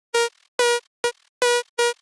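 Five short, bright buzzy saw-wave bass stabs from a Serum synth modulated by a sub, dry and unprocessed, played alone in a clipped, uneven rhythm with silent gaps between notes.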